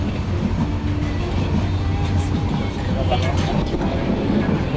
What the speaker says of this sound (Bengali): উঠতে পারলাম ট্রেনে। এই ট্রেনের ভিতরে